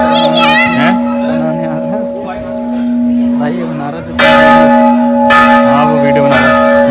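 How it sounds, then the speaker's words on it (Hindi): Temple bell ringing at Bilkeshwar Mahadev mandir in Haridwar: a steady sustained metallic ring with repeated strikes, close and loud, under children's voices and people talking nearby. "घंटी कितनी बढ़िया, देखो"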